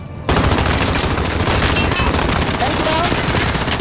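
Rapid automatic gunfire in the video game Call of Duty: Modern Warfare Warzone, loud and dense continuous bursts dominating throughout, with a short spoken comment over the shooting.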